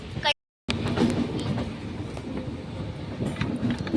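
A train rumbles and rattles steadily into Nizamuddin railway station, a heavy low drone with metallic clatter, heard close with voices around and a brief dropout near the start.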